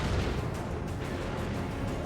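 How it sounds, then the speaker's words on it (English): Lascannon fire in the Warhammer 40k strategy game Dawn of War 2 during a 3v3 match, targeting a Stormblade tank: a dense, continuous rumbling barrage of heavy blasts, loud and sustained without clear gaps. "Las cannon's getting shots on the Stormblade."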